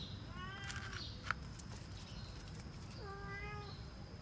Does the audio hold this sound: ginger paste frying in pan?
no